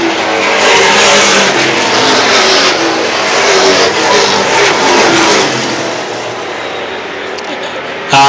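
Late model race cars roaring around Star Speedway during a feature race, a loud continuous engine drone that swells and fades as the pack passes, with an announcer calling the race over it.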